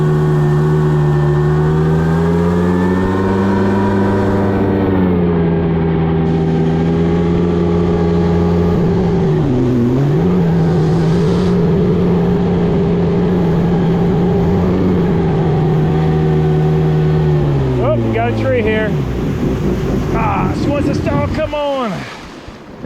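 A loud, close jet ski engine drones steadily with a wavering pitch, running on half choke after sitting for years, dipping once midway, with wind and water noise, then sputters and dies near the end.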